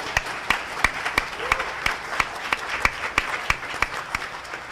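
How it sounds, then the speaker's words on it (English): Applause at a regional school board meeting honors retirees: a room of people claps steadily, with a few sharp, distinct claps standing out in a regular rhythm over the patter. "One more round of applause for our retirees."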